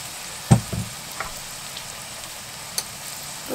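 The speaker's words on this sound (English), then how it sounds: "the butter's beginning to bubble away, so I'm just going to add the onions" Onions dropped into bubbling butter in a pan, a soft low sizzle with a sharp clatter as they go in and a couple of light knocks later.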